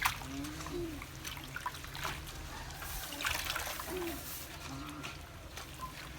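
Water trickles and splashes as pickled mustard greens are rinsed by hand in a basin, with soft sloshing and dribbling through the scene and faint background voices.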